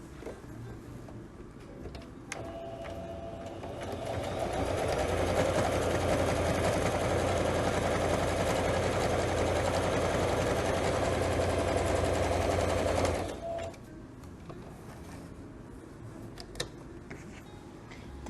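A sewing machine stitching a pocket onto quilt batting for a fabric organizer bag runs steadily for about eight seconds in the middle, a fast even mechanical whir, with quieter handling sounds before and after.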